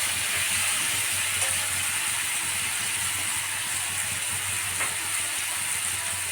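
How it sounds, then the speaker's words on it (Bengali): A small amount of oil sizzles in a pan as ingredients for a Bengali cabbage dish are sautéed, a constant close-up hiss broken by occasional scraping stirs. "এবার এটা ভালো করে কষিয়ে নেব।"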